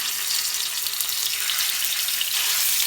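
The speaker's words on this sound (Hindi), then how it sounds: "जब ऑयल थोड़ा सा गर्म हो जाए तो मैं इसके अंदर शामिल कर दूंगी गार्लिक जिंजर की पेस्ट।" Garlic ginger paste fries in hot oil with a steady, even sizzle and hiss that holds close and constant throughout.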